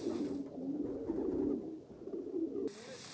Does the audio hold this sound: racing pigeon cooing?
yes